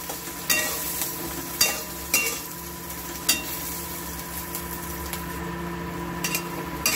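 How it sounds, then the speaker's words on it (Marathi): Green chilies roast in hot oil in a pan for a Kolhapuri dry mackerel chutney, a steady crackling sizzle broken by several sharp spoon knocks and scrapes. Close, with no talking. "बघा मग आता मिरच्या आता अशा तेलामध्ये चांगल्या भाजून घ्यायच्या"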